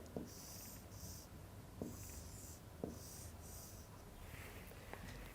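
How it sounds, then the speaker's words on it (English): A pen or pencil draws a picture by hand, making soft scratchy strokes in repeated short bursts. The sounds are faint and close, with a few light taps in a quiet room. "I am drawing a picture here."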